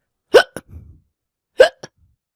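A voice imitates hiccups, giving two sharp, separate hiccup sounds about a second apart, each a quick voiced catch followed by a tiny clipped tail, in otherwise quiet surroundings.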